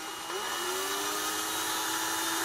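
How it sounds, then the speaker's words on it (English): A power drill whines steadily as it bores a tiny starter hole straight into the side of a plastic model kit part, one continuous close, loud run with a slight pitch rise at the start. "we're going to start drilling on the bottom part with the one hole"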